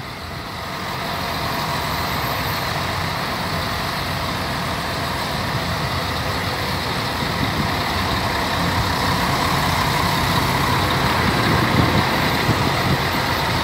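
A new Planalto Transporte bus from the 2019 fleet, in 70th-anniversary commemorative paint, runs with a steady, close diesel engine rumble that builds slightly and holds level throughout with no talk.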